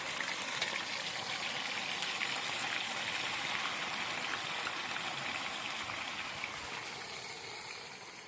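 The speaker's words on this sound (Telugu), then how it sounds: "కాగింది నూనె, ఇప్పుడు వేసుకుందాం ముక్కలన్నీ." Pieces of boiled egg fry in hot oil, giving a steady, dense sizzle and crackle up close that holds evenly and fades slightly toward the end, with no speech.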